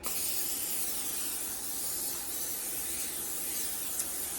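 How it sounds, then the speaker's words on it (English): A steady, close hiss of a cooking spray can spraying onto a cookie sheet runs continuously for several seconds, bright and airy with no pauses. "I've got some spray."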